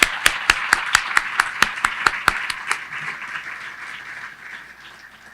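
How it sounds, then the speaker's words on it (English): A string of sharp, evenly spaced claps rings out at an audience gathering for a county's State of the County presentation, then blends into a softer wash of applause that fades away. "Let's give them a round of applause."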